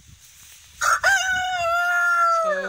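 A rooster crows once up close on a frosty morning, a loud drawn-out cock-a-doodle-doo that trails off, preceded by a brief squawk.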